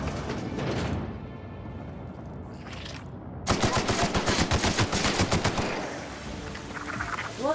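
Gunfire in The Outer Worlds: rapid automatic bursts, loud and close, with a denser stretch of rattling shots midway that fades into a lingering tail, and no talk during the firing.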